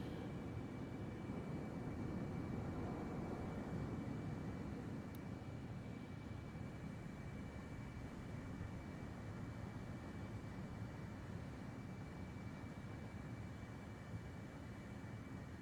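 Steady, low broadband rumble of an F-35 Joint Strike Fighter's jet engine in flight in Microsoft Flight Simulator 2024, an even, fairly faint drone with no talking.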